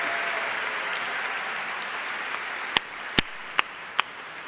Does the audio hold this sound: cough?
no